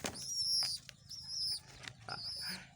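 Soft, close coos of an orphaned dove repeat in short phrases, with a faint rustle of wings and no voices.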